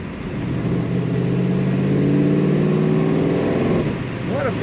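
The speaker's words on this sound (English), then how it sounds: "Let's accelerate one more time just for fun." A 1972 Chevrolet Chevelle Malibu convertible accelerates steadily, its engine droning and rising in pitch for several seconds, heard close and continuous before easing off near the end.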